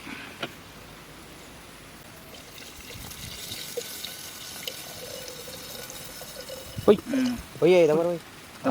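Water fetched and poured in a village cooking setting, a faint trickle and splash under light background noise, followed by a few bursts of voices near the end.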